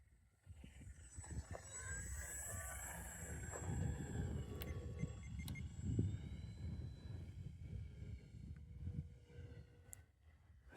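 An RC warbird model plane on its landing approach drones faintly from a distance, its engine note swelling and easing as it passes overhead outdoors.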